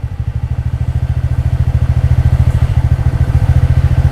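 A TVS NTORQ 125 Race XP scooter engine revving up from idle, a close, steady thumping putter whose rapid pulses grow louder and slightly quicker as the revs rise.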